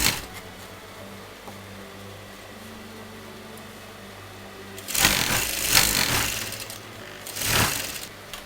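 A sewing machine runs a straight stitch along a double-folded raw edge of fabric for an Anarkali dress, a steady whirring buzz at first, then louder rattling bursts of stitching with pauses between.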